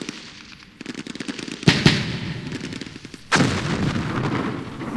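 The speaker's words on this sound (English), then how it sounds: "I think we got out of the way of all the artillery, but you never know with Artie" Artillery fire in the Campaign Series Middle East war game, a rumbling barrage with several sharp booming blasts, two of them loud and close, over a continuous crackling roar.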